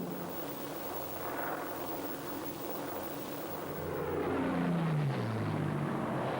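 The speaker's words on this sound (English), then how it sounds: "P-38 Lightning had developed into a superb low-level attack warplane" A WWII P-38 Lightning twin-engine fighter drones steadily throughout, its engine noise swelling louder toward the end as a descending pitch sweeps past, suggesting a near flyby.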